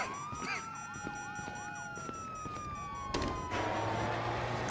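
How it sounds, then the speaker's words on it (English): Police sirens in Grand Theft Auto V's Prologue mission wail with rising and falling sweeps, several overlapping, loud and sustained, joined by a louder burst of noisy commotion in the final seconds. "Sirens! Fuck the cops!"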